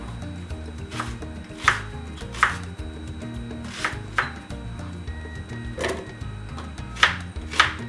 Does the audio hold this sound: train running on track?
no